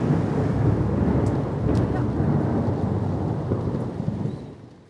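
A thunderstorm rolls over the Amazon region as a deep, sustained rumble of thunder with rain hissing beneath it, loud at first and slowly fading.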